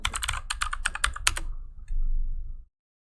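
Quick bursts of keystrokes on a computer keyboard entering a material name while customizing a wall in Revit, close and clear for about a second and a half, then a low steady hum before silence.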